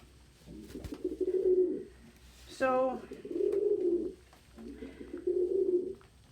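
Pigeons coo at a winter feeding spot in three soft, rolling bouts that rise and fall, fairly close. A brief voice and a sharp call break in between the second and third bouts.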